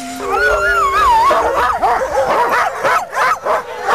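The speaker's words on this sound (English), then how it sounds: "These dogs are raring to go" A pack of eager sled dogs howls and barks together up close, long wavering howls giving way to rapid overlapping yips and barks, loud and continuous.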